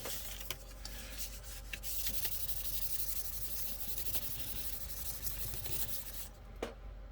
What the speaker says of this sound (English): Let's see how much it sands.